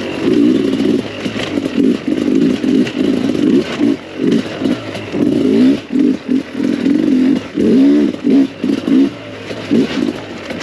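A Sherco 300SE two-stroke dirt bike ridden on flowing trails, its engine loud and close, revving hard in repeated throttle bursts with brief drops between them and no talk.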